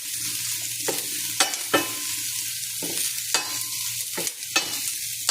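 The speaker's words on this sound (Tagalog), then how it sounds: "So, lagyan natin ng tomato sauce dito." Macaroni stirred in a pan after tomato sauce is added: a soft steady sizzle runs underneath while a utensil scrapes and clacks against the pan in repeated strokes, close up, no voices.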